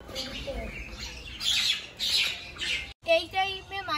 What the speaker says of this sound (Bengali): সবেমাত্র খাবার দিলে আমার কত পাখি চলে এসেছে